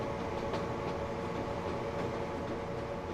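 A train running in the video game Transport Fever gives a continuous, steady rumble with a faint rhythmic rattle that holds at an even level and has no talking over it.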